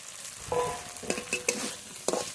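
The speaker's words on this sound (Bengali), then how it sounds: "ভেজে রাখা চিংড়ি মাছ মশলার উপরে দিয়ে দেবো।" Fried prawns are stirred into sizzling masala in a pan for a prawn malai curry, with steady frying hiss and several sharp scraping stirs of the spatula, close and clear.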